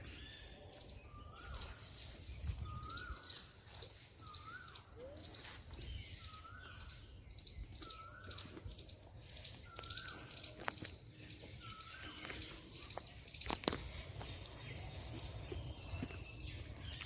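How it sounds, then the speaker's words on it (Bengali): Birds call in short, repeated chirps at a steady pace, spaced about a second apart, over a constant buzzing of insects in a quiet sal forest. "খালি পাখির আওয়াজ"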